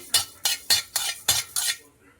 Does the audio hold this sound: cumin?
yes